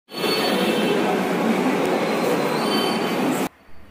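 A train at Secunderabad railway station roars loudly and continuously with grinding, squealing wheels for about three and a half seconds, then cuts off abruptly into quieter station ambience.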